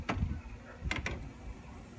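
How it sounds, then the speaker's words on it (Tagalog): An inkjet printer's internal mechanism whirs and clicks after its lid is shut following an ink cartridge swap, with a couple of short mechanical bursts at close range over a quiet room background. "pwede na natin sara ulit ang ating printer"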